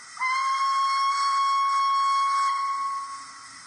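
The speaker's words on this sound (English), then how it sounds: "We have a long whistle." A long steam whistle blast from a Dapol Hawthorn Leslie model steam locomotive fitted with DCC sound, one sustained piercing tone lasting around three seconds before tailing off, heard up close and alone.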